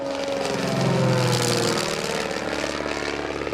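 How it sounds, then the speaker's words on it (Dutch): Lake LA-4 Buccaneer amphibious aircraft with a single Lycoming engine and pusher propeller, droning steadily and loudly nearby at an air show, with a rising then settling pitch and a buzzing propeller tone. "Zoals deze Buccaneer, een amfibisch vliegtuig."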